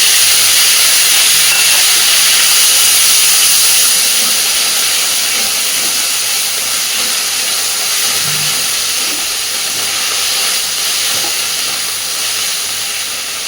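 Ground ginger and cumin paste hits a hot pan of oil with a bay leaf, making a continuous loud, even sizzling hiss that eases slightly as it goes on.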